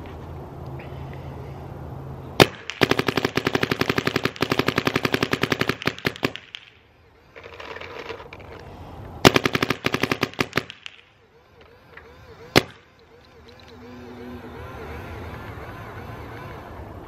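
Rapid bursts from a Smart Parts Shocker NXT paintball marker, two long strings of quick shots separated by pauses with single pops between, loud and close, with faint voices in the background.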